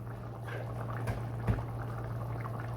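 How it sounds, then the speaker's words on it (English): Water simmering back to a boil in a pot on a home stove, a soft steady bubbling hiss with a low hum and a couple of brief knocks, fairly quiet and without talk. "now you see it's back to a boil"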